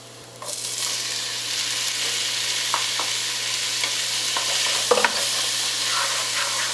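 Tomatoes cooking in a pan with onions, garlic and ginger paste for butter chicken, a loud continuous sizzle and hiss with occasional soft scrapes of a spoon, nothing else heard.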